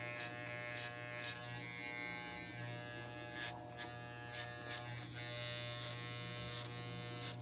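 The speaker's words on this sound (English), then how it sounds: "This is called clipper over comb." Electric hair clippers cut hair over a comb while trimming and blending a haircut, giving a steady close buzz throughout with brief brushing bursts as the comb and blade pass.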